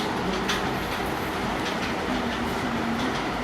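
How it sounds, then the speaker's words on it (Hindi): A train running along a railway track as it turns, giving a steady, continuous rumble with faint metallic rail noise and occasional squeal-like tones, close and even throughout. "अरे मुड़ रही है ट्रेन यार"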